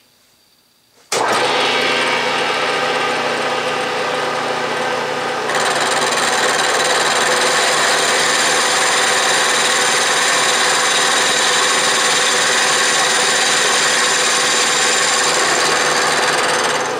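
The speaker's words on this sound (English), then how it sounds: "I'm milling at about 1200 RPM" A milling machine running at about 1200 RPM cuts metal, starting abruptly after a moment of quiet and then grinding steadily with a hum, growing louder and harsher partway through and continuing alone to the end.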